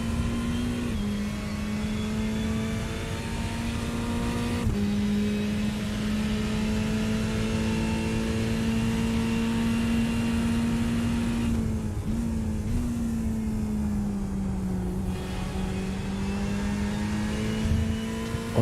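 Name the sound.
Ferrari race car engine, on board at Silverstone 24 hours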